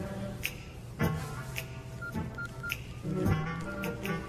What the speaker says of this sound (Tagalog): Ringtone ko to ya.